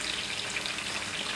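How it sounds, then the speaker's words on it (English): Chicken pan frying in a pan gives a steady, close sizzle that runs evenly through the whole short stretch with no talk over it. "So this is not exactly sauteing, it's more like a pan frying."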